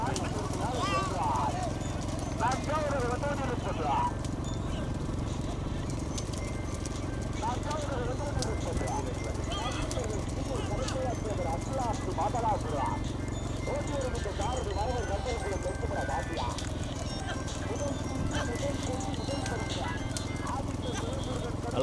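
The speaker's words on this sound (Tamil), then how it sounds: "இப்போதான் மாடு எல்லைக்கு வந்துக்கிட்டு இருக்கனே." Hooves of bulls pulling carts pound in a quick, continuous clatter during a bullock cart race's second round at Madhalapuram, mixed with crowd noise and steady talk and commentary throughout.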